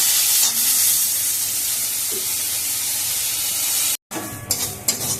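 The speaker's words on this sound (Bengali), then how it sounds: "দিয়ে আমি পাতাগুলোকে ভালো করে ভেজে নেব।" Neem leaves with salt and turmeric frying in a pan give a loud, continuous close-up hiss and sizzle, briefly cut off near the end before resuming with a few sharper crackles.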